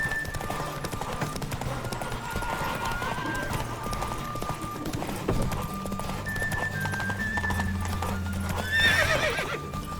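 The horse Roach galloping in The Witcher 3, steady rhythmic hoofbeats carrying throughout with a neigh near the end and a game voice speaking briefly over it.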